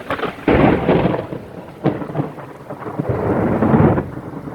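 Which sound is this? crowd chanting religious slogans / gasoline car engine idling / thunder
thunder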